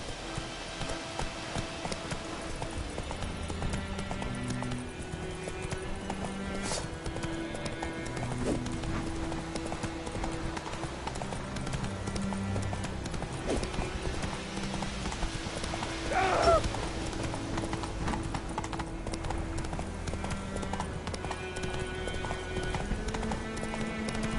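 Hoofbeats of Roach, Geralt's horse in The Witcher 3, clip-clop steadily under game music and ambient sound, with a brief louder accent midway and some voices in the background.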